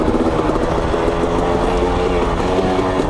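Loud, continuous engine roar of a KTM 250 XC dirt bike climbing steep, deep terrain, with a steady throbbing note and no break over a few seconds.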